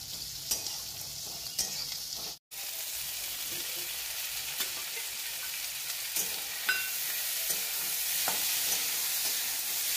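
Chopped onion and tomato sizzle steadily in hot oil in a pan for misal, making a continuous bright frying hiss with small crackles, close and even throughout.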